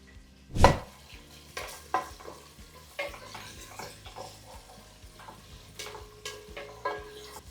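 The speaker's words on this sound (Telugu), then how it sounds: "దీంట్లో రెగ్యులర్గా వేసుకునే ఉల్లిపాయలు అలాగే సాంబార్ ఉల్లిపాయలు రెండు వేయాలి" Regular and sambar onions hitting a hot pan for Andhra dosakaya pappucharu, a sharp sizzle burst at the start settling into soft frying with scattered stirring clinks and scrapes, close and fairly quiet.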